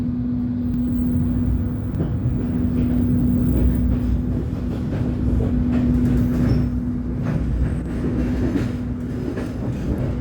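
Train rumbling steadily on the entry track into the Bandung railway depot, a continuous loud low roar with a faint tonal hum throughout and no voices.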